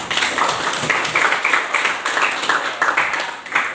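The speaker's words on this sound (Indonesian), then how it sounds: "Tepuk tangannya." Applause from an audience at an Indonesian school teachers' supervision session, a steady patter of many hands clapping at close range for several seconds.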